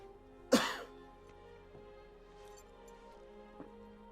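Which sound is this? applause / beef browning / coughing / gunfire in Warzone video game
coughing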